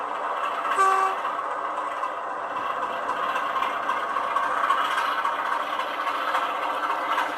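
A Class 33 model railway locomotive runs around a layout on track, a steady whirring rail hum with faint clicks continuing throughout, fairly close and unbroken, with no talking.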